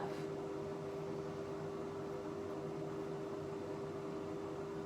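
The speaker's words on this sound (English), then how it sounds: "I've got that chicken in the air fryer" An air fryer runs while cooking chicken, giving a steady low mechanical hum with an even fan-like whir. It is faint and constant, with no talking.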